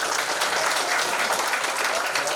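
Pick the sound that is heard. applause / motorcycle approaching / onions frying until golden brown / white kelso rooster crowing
applause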